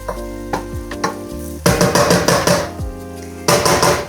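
Pasta dish sizzling in a pan while being stirred, with bursts of frying crackle and scraping utensil strokes coming and going close by, with no talking.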